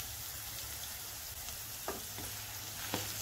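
Green chillies and ginger-garlic paste fry in a pan for a bottle gourd curry with a soft, steady sizzle and a few faint stirring clicks. The sound is quiet and close, with no talking.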